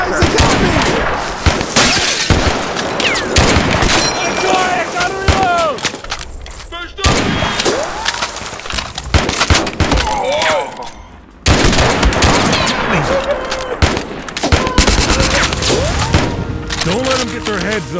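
A World War II video game battle rages with dense rifle and machine-gun fire, sharp bursts and booms coming near and far almost without pause, while voices shout over the fighting.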